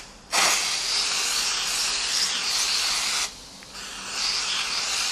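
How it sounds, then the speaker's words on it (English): Starch is sprayed from a spray bottle onto tissue paper in two long, close hissing bursts, the second following a short pause, with no talking over them. "And now I'm just going to spray the tissue paper."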